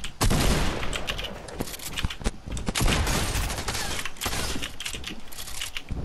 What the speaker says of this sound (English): Why are they all shooting at me?